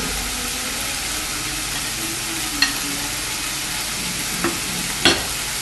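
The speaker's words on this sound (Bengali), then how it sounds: "চিকেন কিমাটা দেওয়ার পর আমি হালকা নেড়ে এবার আমি হলুদ আর লঙ্কা গুঁড়ো দিয়ে দেবো।" Chicken mince with turmeric and Kashmiri chilli powder sizzles steadily in a pan, with a few sharp clinks of the spoon against the pan as it is stirred.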